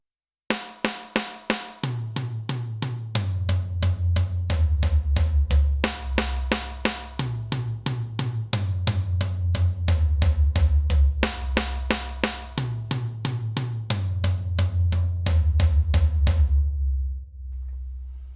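Drum kit playing steady sixteenth notes moved around the toms and drums, fast even strokes with deep tom passages and cymbal accents, loud and close throughout with no talking, ending on a ringing decay.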